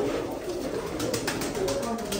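Pigeons coo softly and repeatedly nearby, low rounded calls over a steady background hiss, with no talk.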